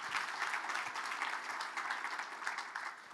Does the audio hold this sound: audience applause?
yes